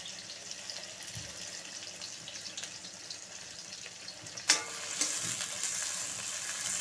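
Sliced onions and green chilies frying in hot oil with cumin for a bitter gourd peel dish, a steady soft sizzle with a sharper burst midway, close by and fairly quiet.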